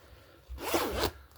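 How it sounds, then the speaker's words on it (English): The collar zipper on an M65 field jacket is pulled up in a single quick, close zip lasting about half a second. "shove it back inside and zip up the collar"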